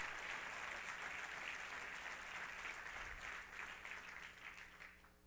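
Congregation applauding in a church, sustained dense clapping from many hands that fades out toward the end.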